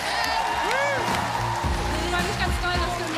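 A TV studio audience on a kids' singing competition show applauds and cheers, with whoops and a rising whistle, under loud talk from people nearby.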